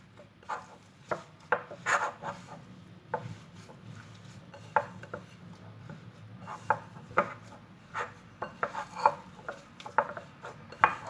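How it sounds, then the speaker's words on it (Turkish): Apple cookie dough being stirred in a bowl, a steady series of close scraping and knocking strokes with soft rubbing between them, repeated irregularly throughout with no talking. "Bir güzel karıştırıyoruz."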